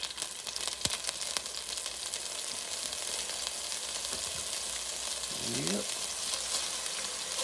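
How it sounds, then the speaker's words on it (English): Garlic sizzling in a frying pan for spaghetti meat sauce, a constant bright hiss with scattered stirring clicks and scrapes, close up, with a brief spoken word at the start. "We're going to drop on some garlic in here"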